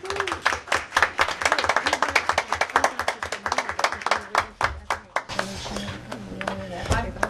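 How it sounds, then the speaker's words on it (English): Applause at a Fanwood council meeting honouring local Girl Scouts, a brisk round of clapping from a small room that thins out partway through, with voices talking over the tail end. "Let's give them another round of applause."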